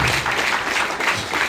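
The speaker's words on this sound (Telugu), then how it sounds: "సో క్లాప్స్ అండి, బిగ్ రౌండ్ ఆఫ్ అప్లాస్." An audience at a business motivational event claps in a dense, continuous round of applause, loud and close throughout the brief burst.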